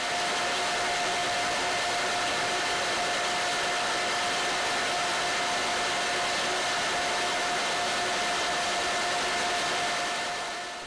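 A jute spinning frame runs as sliver feeds into its drafting rollers, giving a steady, even machine hiss with a constant underlying whine. It stays moderately loud and unchanging throughout, with no voices.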